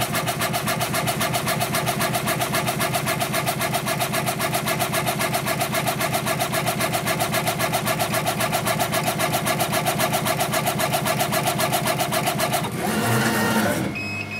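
A Redsail clone laser cutter with an upgraded head drives its head back and forth at high acceleration at 1,000 mm speed. It makes a loud, continuous, rapidly pulsing mechanical whir for about thirteen seconds, then shifts briefly in tone at the end.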